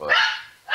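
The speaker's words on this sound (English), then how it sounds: "Sorry about the dogs, by the way." Dogs barking close by and loud: two sharp bark bursts with a short quiet gap between them.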